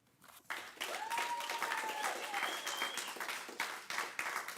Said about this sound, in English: Please maintain control and do not clap and yell